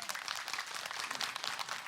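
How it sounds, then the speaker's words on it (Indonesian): Studio audience at a televised Islamic talk show gives a short burst of dense, even applause, fairly soft and uninterrupted. "Tepuk tangan dulu untuk Sasyam"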